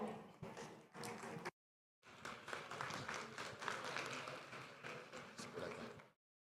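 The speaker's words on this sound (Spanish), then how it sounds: "Un aplauso, por favor." Conference audience clapping for a speaker coming on stage, sustained applause interrupted by a short gap of silence, fairly faint overall.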